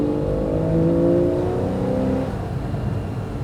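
Porsche 911 Carrera S of the 991.1 generation, its naturally aspirated 3.8 litre flat-six revving steadily and loudly up close, a continuous harmonic engine drone that eases slightly toward the end.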